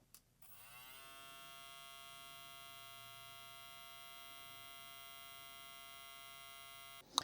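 JRL Diamante hair clipper switched on and running at high speed, a steady close electric whine with a rich buzzing tone that holds evenly for several seconds before it clicks off.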